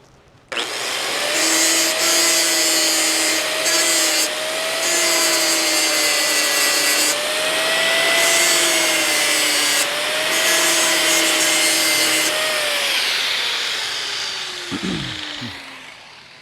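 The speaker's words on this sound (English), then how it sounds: "so I'm gonna grind that out real quick" Power grinder working a charred spot out of an old steel tank, a loud steady whine holding for about twelve seconds with slight pitch dips as it bites, then spinning down to a stop.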